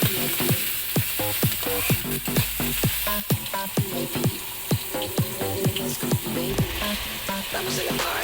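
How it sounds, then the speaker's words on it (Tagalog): Chop suey vegetables with chayote and chicken liver sizzle loudly in a hot pan, while a spatula strikes the pan in a quick, regular rhythm of sharp clacks, close-up and with no voices. "Tara, igisa na natin mga kaating."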